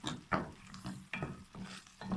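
Softened tomato chutney sautés in a pan over raised heat, with a soft sizzle under four or five rhythmic stirring strokes, quiet and close.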